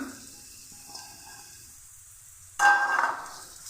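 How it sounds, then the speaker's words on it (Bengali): Chicken mince drops into a pan of fried spices and breaks into a sudden loud sizzle with stirring, after a few seconds of faint, quiet frying; no one speaks. "মশলা ভাজা হয়ে গেছে খুব সুন্দর একটা মশলা ভাজার ফ্লেভার ছড়াচ্ছে এবার আমি এখানে দিয়ে দিচ্ছি চিকেন কিমা"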